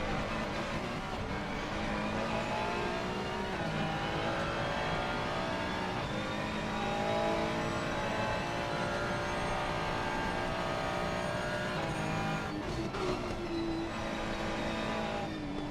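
Race car engine on the Nordschleife during an amateur event, droning loud and continuous with rising and falling revs, a brief dip and change of pitch near the end suggesting a downshift, no voices.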